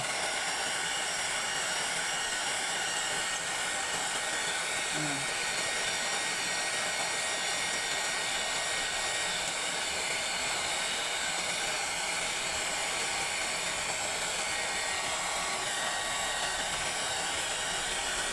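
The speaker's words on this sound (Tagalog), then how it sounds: "gagamitan ko na lang ng ano to, blower, para mabilis matuyo" A heat blower roars steadily and loud at close range while drying the rewound motor winding of an Asahi Stanfan electric fan, a constant unbroken whoosh with no talk.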